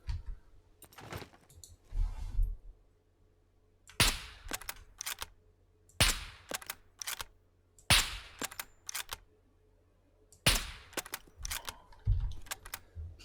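Gunfire from a gun in the video game SCUM: sharp, loud single shots and short bursts in irregular clusters, each crack ending in a brief tail, with quiet gaps between them and no talking.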